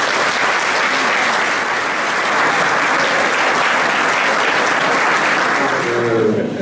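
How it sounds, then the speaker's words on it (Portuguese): Loud, sustained applause from diners at a hospital friends' association lunch, steady and dense throughout as the room claps for the staff. "portanto eu pedi uma salva de palmas para eles"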